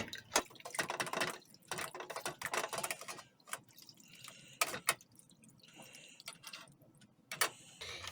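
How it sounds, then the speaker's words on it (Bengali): Fresh chhana cheese curds being rinsed with water for kala kand: irregular splashes and drips of water, some sharp and close, coming in bursts separated by quieter gaps. "এটাকে ভালো করে জল দিয়ে ধুয়ে নেব ছানাটাকে"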